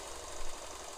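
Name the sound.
Singer 66/99/185-family sewing machine running with vibration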